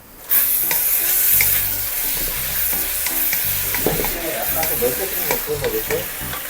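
Thick scored meat grills in a pan, a loud, continuous sizzle and crackle close by, with stirring and clatter mixed in throughout.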